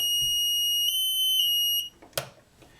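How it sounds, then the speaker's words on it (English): A power fail alarm sounds a shrill, steady high-pitched electronic tone for almost two seconds, then stops abruptly, followed by a brief click. "there goes the alarm"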